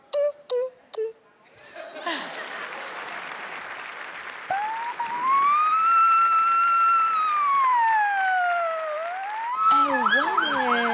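A voice imitates a fire engine siren with a long rising and falling wail, after a few short vocal sounds and a burst of clapping, close and loud.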